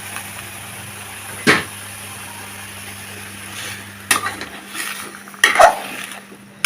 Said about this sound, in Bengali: টমেটো দিয়ে শসাগুলো দিয়ে দিলাম।